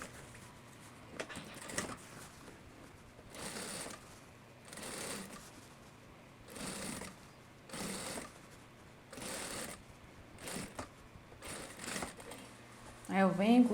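A sewing machine stitches the armhole finishing seam of a long vest in short, separate bursts, faint and close, with quiet pauses between runs.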